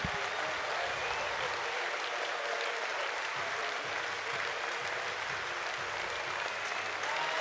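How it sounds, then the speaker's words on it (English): A college baseball stadium crowd roars during an NCAA game between Texas and Oregon, sending up a continuous, distant wash of cheering and clapping that holds at a steady level throughout. "listen to the crowd"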